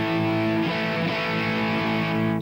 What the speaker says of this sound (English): Like I said, I'm using this distortion pedal